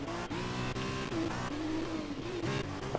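F2 race cars in a racing video game, set at Mexico, with engines droning steadily at high revs and shifting pitch as they run, loud and continuous throughout.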